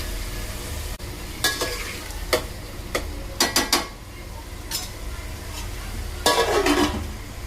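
Ginger garlic chili paste and pulao masala frying in a pan for a soybean pulao: a steady low sizzle punctuated by sharp, irregular spatula taps and scrapes against the pan.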